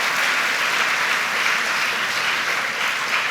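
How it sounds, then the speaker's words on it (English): Steady applause from a school awards-day audience fills the air, dense and even, with no pauses and no talk over it. "Please give them a round of applause."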